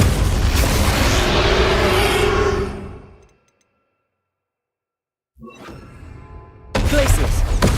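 A Depulso spell in Hogwarts Legacy goes off as a loud, booming burst of force that fades into silence, followed by renewed crashing impact noise.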